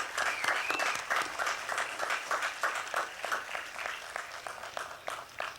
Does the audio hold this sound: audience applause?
yes